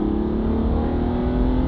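An Aston Martin DB9's V12 engine revs with a steady, smooth, loud drone that swells only gently without sharp peaks, heard alone with no talking.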